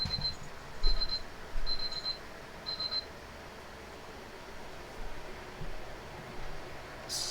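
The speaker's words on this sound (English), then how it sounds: "Why is there an alarm going off?" A high electronic alarm beeps in short repeated bursts, four quick pulses spaced about a second apart, over a quiet room hum, then stops.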